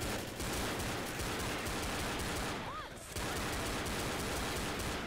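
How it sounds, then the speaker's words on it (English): Dense, continuous gunfire from Left 4 Dead, loud and near, with rapid overlapping shots filling the whole stretch apart from a brief lull near the middle. "How dare you shoot me when I run directly in front of you?"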